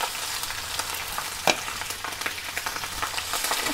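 Diced bacon frying in a pot for potatoes with poblano strips, giving a continuous close crackling sizzle with one sharper pop or scrape partway through.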